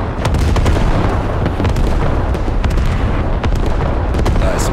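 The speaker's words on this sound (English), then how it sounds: "Oh, we've got that artillery fire." Artillery fire support barrage in the Squad video game, a dense, continuous roar of overlapping explosions and booms with sharp bursts scattered throughout, loud and sustained without pause.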